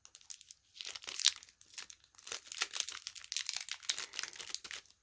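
Cellophane wrapper crinkles and crackles in bursts as it is wrapped around an imitation candy, close and fairly quiet, with short pauses between handlings and no talking.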